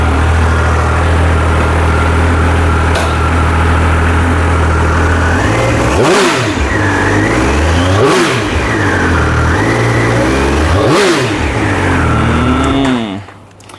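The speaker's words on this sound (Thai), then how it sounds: "มา เดี๋ยวมาฟังเสียงเบิ้ลจริง" A 2022 Triumph Speed Triple 1200 RR three-cylinder motorcycle engine idles, then revs sharply three times against the rev limiter with rising and falling pitch before cutting off at the end. Loud, close, no talking.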